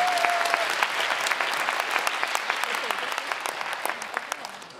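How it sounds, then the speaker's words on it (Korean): Audience applause at the LG Twins 2018 Love Giving Day talk concert at COEX SMTOWN, a dense steady wash of clapping from a large crowd that tapers slightly, with a brief voice at the start. "멋진 진행해 주신 MC교에게도 입장 박수 한번"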